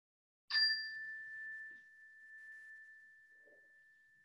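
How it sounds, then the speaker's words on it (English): A single meditation bell rings once, producing a clear metallic strike followed by a pure tone that hangs and slowly fades over several seconds in a quiet room. "I'll ring a bell to start"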